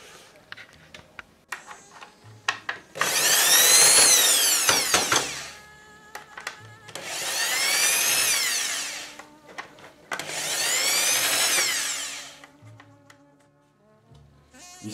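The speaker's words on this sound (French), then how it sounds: "Maintenant, je vais démonter les petites vis de la même façon." Three bursts of a small power screwdriver buzz loudly as tiny screws come out of a pop-pop boat engine, each burst several seconds long, separated by quieter clicks and handling noises.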